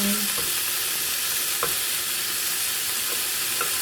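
Mixed vegetables including bean sprouts, mushrooms and asparagus are stir-fried in a pan, a loud continuous sizzle with occasional clinks of the spatula against the pan, close up and without talk.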